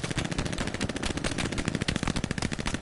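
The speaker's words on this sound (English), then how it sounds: "it's a machine gunner" Rapid machine gun fire from the World War II game Hell Let Loose rattles in a fast continuous burst, loud and close, with no voices over it.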